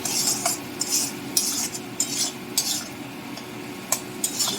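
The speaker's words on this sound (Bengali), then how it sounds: "সর্ষে, পোস্ত, পেঁয়াজ, টমেটো, কাঁচা লঙ্কা আমি ভালো করে একটু মিনিট 2-3 একটু নাড়িয়ে নেবো।" A spoon stirs mustard and poppy seed paste with onion, tomato and green chilli in a pan, making soft, close scrapes and a string of light clinks in an uneven rhythm, with no talk.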